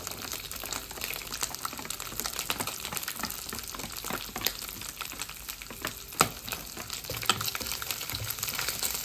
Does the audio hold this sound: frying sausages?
yes